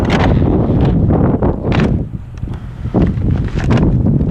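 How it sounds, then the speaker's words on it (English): Steady wind blows hard against the microphone, roaring and buffeting in gusts with a brief lull in the middle, and no voices. "A little windy."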